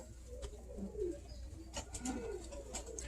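Birmingham Roller pigeons, typical cock birds, coo softly in a series of low, murmuring calls that rise and fall over a steady background hum, moderately close.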